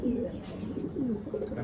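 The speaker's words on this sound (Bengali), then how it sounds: "অনেক খাতারনাক কবুতর।" A pigeon coos up close in a low, rolling, repeated call, with voices talking underneath.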